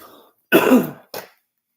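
A single harsh cough followed by a short throat clearing, close up, with a brief pause between them.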